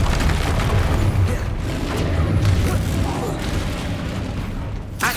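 Expelliarmus disarming spell in Hogwarts Legacy, dense booming and mechanical clattering magic effects layered with other spell blasts and a voice in the mix, loud and continuous.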